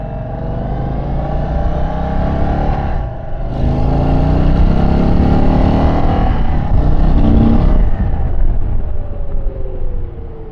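An Indian Sport Chief motorcycle is ridden on a demo ride, its engine droning loud and steady with rising and falling revs, plus a brief dip in throttle partway through and wind rush throughout.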